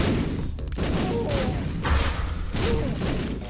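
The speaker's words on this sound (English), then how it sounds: "Exploding flies, exploding bombs. Many explosions, I guess." Explosions from exploding flies and bombs in The Binding of Isaac: Wrath of the Lamb form a dense, continuous run of rumbling booms and crashes mixed with the game's soundtrack.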